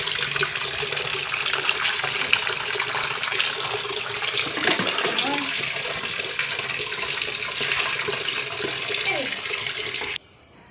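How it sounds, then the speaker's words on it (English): Water gushes steadily onto a floor with mud on it, ahead of mopping a portico, a loud continuous splashing pour lasting about ten seconds before it cuts off abruptly. "I'll just put a bit of water and mop with this."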